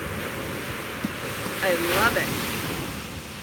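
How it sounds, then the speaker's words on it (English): Ocean waves crash on a beach at sunrise, a steady loud roar of surf mixed with wind buffeting the microphone, swelling briefly in the middle while a person speaks a short phrase over it. "I know the waves are amazing this morning, aren't they? They're so loud."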